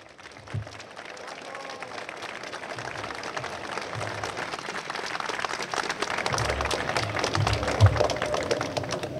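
Crowd applause at a Polish political rally in Płock for Sławomir Mentzen, dense clapping that swells and grows louder over several seconds, with scattered voices and cheers mixed in.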